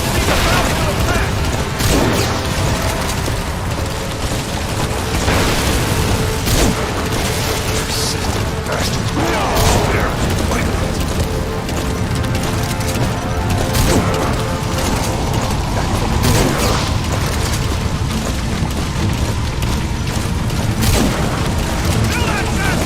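Dense gunfire and booming explosions in Metal Gear Solid V, a relentless loud barrage of shots, crashes and blasts throughout, with voices shouting over the combat.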